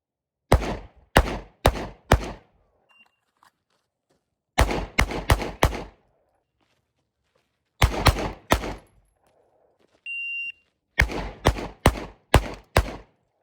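A SIG P365XF pistol fired close and loud in quick strings of four or five sharp shots, several bursts separated by short pauses, dozens of rounds in all, at a shooting range.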